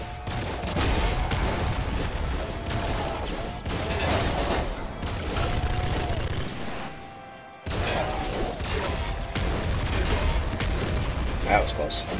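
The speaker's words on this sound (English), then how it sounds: "I just got caught up in the explosion there." Explosions and rapid gunfire from the video game Nuclear Throne crackle and boom in dense volleys, cut by a brief near-silent gap before the barrage resumes, with a voice talking faintly under the noise.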